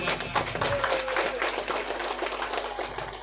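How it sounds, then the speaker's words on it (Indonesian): An audience at a cooperative's annual meeting in Central Lombok claps, a brief, dense patter of many hands heard at moderate distance in a room. "tepuk tangan dulu buat"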